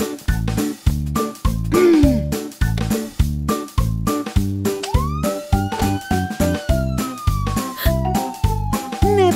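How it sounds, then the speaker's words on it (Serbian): Police car siren in a cheerful children's song, sliding wail tones rising and falling over a bouncy, loud, steady beat with jingly accents. "Sirena pokazuje lošim ljudima da sam stigla."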